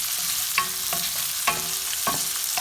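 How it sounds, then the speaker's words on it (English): Onions and capsicum stir-fry over a high flame in a pan, a constant loud sizzle broken by repeated quick metallic scrapes and clinks of the spatula at close range, with no talking. "Just stir fry there from 2 minutes. It has to be cooked in continuously high flame."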